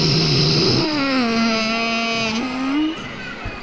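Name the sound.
child imitating a megalodon dinosaur sound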